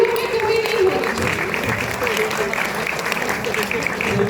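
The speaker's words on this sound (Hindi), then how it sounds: "give a big round of applause" Students at a college welcome event give a teacher a lively round of applause, dense continuous clapping throughout, with voices speaking over it.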